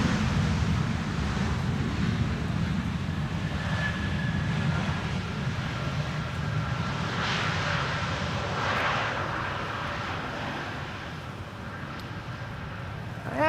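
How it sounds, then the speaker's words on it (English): A steady low roar of a distant airliner passing overhead near Amsterdam Schiphol Airport, broad and rumbling, slowly fading toward the end with no voices. "I'm hearing overhead traffic."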